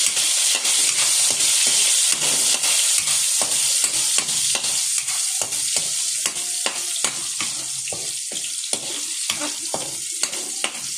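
Chayote and beans sautéing in a pan of cooking oil, a steady loud sizzle broken by frequent stirring scrapes and clinks of the utensil against the pan, with no talk.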